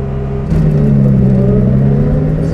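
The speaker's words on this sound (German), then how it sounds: "Die Maschine ist relativ laut, aber bei so einem Auto darf es das sein." A 1965 Lamborghini 350 GT with an aluminium body and a V12 engine runs close and loud with a steady, humming drone that rises slightly in revs after half a second and then holds, heard from inside the car with a window open.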